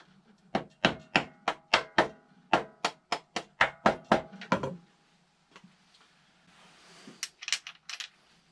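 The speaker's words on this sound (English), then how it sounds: "you can push your spindle right through" A swing arm spindle is worked through a Triumph Speed Triple swing arm fitted with new bearings: a quick run of about fifteen sharp metallic taps, then near silence with a few faint clinks.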